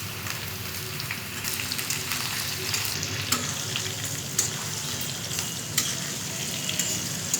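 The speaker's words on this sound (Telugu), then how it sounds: "ఇది బాగా ఎర్రగా వేయించుకోవాలి." Brinjal sizzles and fries in oil for vangi bath, a continuous crackling hiss with sharp pops and the occasional clink of stirring, close and steady throughout with no talking.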